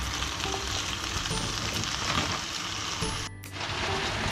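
Chicken thigh pieces and vegetables frying for chicken jalfrezi give a steady, close, moderately loud sizzle. The crackling runs continuously, with a brief stir or dip near the end, and no voices.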